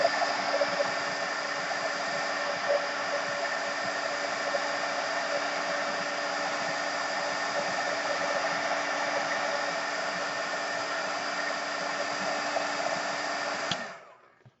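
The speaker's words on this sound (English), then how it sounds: "I'm just going to go ahead and heat that up." Heat tool blowing hot air onto a handmade aperture card, a steady loud whooshing hum held close for about fourteen seconds before switching off and fading.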